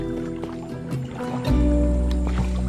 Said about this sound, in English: So it's forbidden to use engine for the canoes here. So this is why we have to paddle.